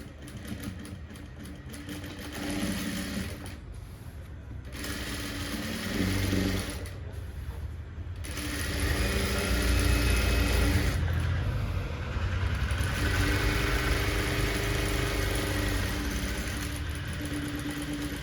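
A sewing machine runs steadily while stitching an alteration on a ready-made nighty, its motor whirring continuously for the whole stretch with brief pauses and changes in pace.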